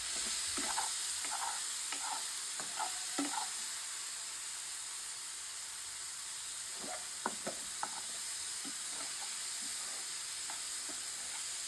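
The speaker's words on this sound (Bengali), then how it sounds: "এটাকে আমরা ভেজে নেব।" Bread pizza fries in a pan over a low flame with a constant soft hiss. Irregular light scrapes and clicks of a spatula come in bursts over it.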